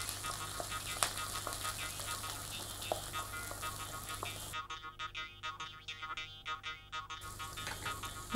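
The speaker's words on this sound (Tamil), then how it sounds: "எண்ணெய் காஞ்சதும் பட்டையை போட்டுட்டு அடுத்து நறுக்கி வச்சுருக்க வெங்காயம்" Chopped onions and cinnamon sizzling in hot oil in a pan, cooking for a Kerala palakka sodhi; steady close frying crackle with stirring scrapes, brief busier bursts near the end, no talk.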